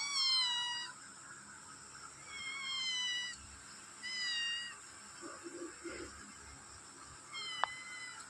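A local desi cat meows several times in separate drawn-out calls, fairly close and clear against a quiet background with faint rustling.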